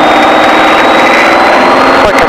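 A light training aircraft's engine roars steadily at full throttle during a touch and go, loud and continuous in the cockpit with a constant droning tone throughout.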